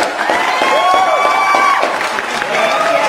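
An audience at a church catechesis session breaks into loud applause mixed with cheering and high shouted voices, a continuous crowd roar throughout.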